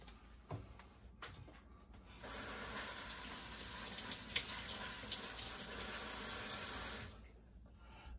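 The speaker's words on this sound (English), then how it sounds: "I'm just gonna rinse that off." Kitchen tap running as a few herb sprigs and two bay leaves are rinsed under it, a steady splashing stream for about five seconds, preceded by small clicks and handling noises and then shut off, no talking.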